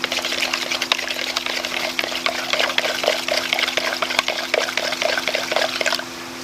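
Water pouring and splashing into a tilapia quarantine tank, a continuous close gush with crackling droplets and a faint steady hum underneath, easing off near the end; no talking.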